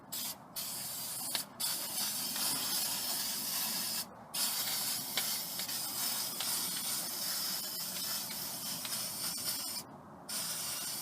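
Aerosol can of Rust-Oleum flat black enamel spraying onto a Jeep TJ frame, a close continuous hiss broken by a few short pauses between bursts, with no talking.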